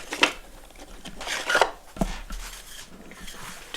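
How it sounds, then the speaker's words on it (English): Hammer tapping a wood block to tighten a dovetail joint on a jewelry box, a few sharp close knocks spread apart, alone without talk. "I'll see if I can tighten that up with a little tap and a block."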